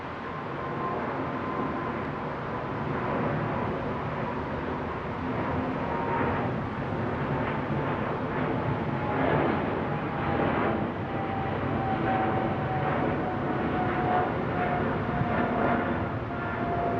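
Airliners at Frankfurt airport produce a continuous distant jet rumble and roar with a slowly drifting whine, sustained and moderately faint throughout.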